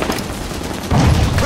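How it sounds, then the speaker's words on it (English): Binary rifle fire in the video game Halo 5 Warzone, a dense, loud burst of crackling shots and booms filling the whole stretch, swelling heavier toward the end. "Binary rifle targeting me."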